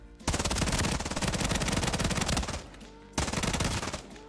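A submachine gun fires in full-auto bursts in the video game SOLO: a long rapid burst of closely spaced shots, a short pause, then a second burst, loud and sharp with no talk.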